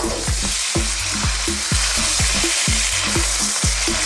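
Beef stir-frying in a hot pan with bean sprouts to come, a loud, dense sizzle broken by regular rhythmic scraping and tossing strokes about every quarter second, close up with no voices.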